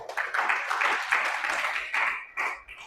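A church congregation at GBI BSB Sorong claps together during a sermon, a brisk, fairly soft burst of applause that swells and eases over a few seconds.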